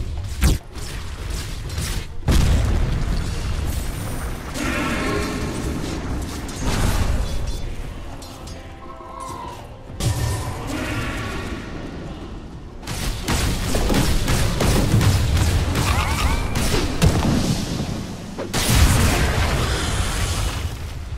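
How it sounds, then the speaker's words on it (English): Dota 2 combat around a tower under siege: dense bursts of game explosions, booms and impact pops, loud and nearly continuous with brief lulls, layered with spell and hit effects. "Dire's bottom tower is under attack."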